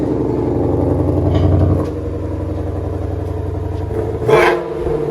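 A sports car engine idles with a throaty, uneven burble, swells briefly near the start, then gives one sharp blip of revs toward the end before settling back to idle; close and loud, no talking.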